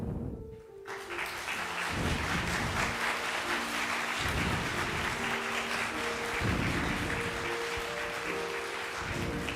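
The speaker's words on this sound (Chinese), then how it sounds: "我们请起立哈，一起给他鼓掌哈" A congregation in a Chinese-language service at Shuanglian Church stands and applauds, sustained hearty clapping from many hands that fills the room evenly, with an organ or keyboard playing chords underneath.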